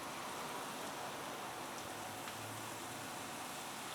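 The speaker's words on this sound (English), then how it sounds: "Oh, the water is boiling." A steady, dense bubbling hiss of water at a rolling boil in a pot, continuous and fairly close, with no voices.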